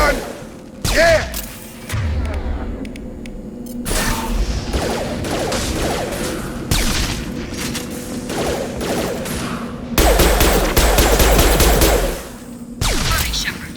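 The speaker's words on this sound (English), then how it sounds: "Shotgun!" Shotgun blasts in Mass Effect 2, heavy booming shots scattered across the stretch with a dense burst near the end, over continuous combat noise and music, with brief voices.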